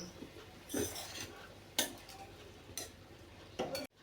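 A utensil stirs sprouted moong usal in a pan, giving a few separate clinks and scrapes spaced about a second apart, close and clear with quiet sizzling underneath.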